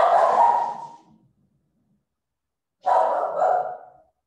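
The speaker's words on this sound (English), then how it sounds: "that's a dog barking," A dog lets out two loud, close barks separated by a few seconds of silence, each a short rough burst with no voices around.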